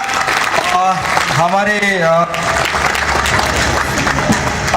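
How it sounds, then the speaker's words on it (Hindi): Applause welcoming a guest at a community annual convention in Raipur, Chhattisgarh, loud clapping from a crowd that runs throughout while a singing or calling voice rises over it and a brief word is spoken. "जोरदार इनका ताली से स्वागत कीजिएगा"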